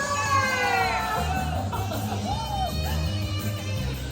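Loud, continuous yells and whoops rise from an excited crowd at a live cover-song performance, with drawn-out shouting voices and rising calls layered over the steady noise.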